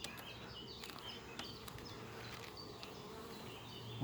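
Honeybees drone steadily around an open beehive, a faint, continuous buzz with individual bees passing close now and then.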